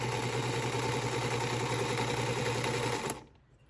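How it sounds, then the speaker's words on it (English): A sewing machine stitches covered-corner half square triangles for a quilt block, a close, steady run of rapid needle clatter with a low hum that stops abruptly near the end. "I'm going to take the time to sew my remaining covered corner half square"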